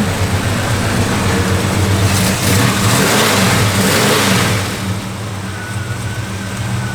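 A 1965 Chevrolet Impala engine with a mild cam revs hard and loud for several seconds with a deep rumble, then eases back to a steady lower idle.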